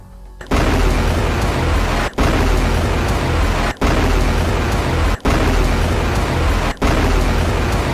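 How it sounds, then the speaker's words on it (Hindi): A Hezbollah rocket barrage launched toward Mishhar base roars out as a loud, continuous broadband rush, broken into about five long surges by brief gaps, with no voices. "इसके बाद मिशहर बेस पर रॉकेटों का जत्था फायर किया गया।"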